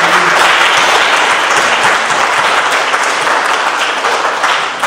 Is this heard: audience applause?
yes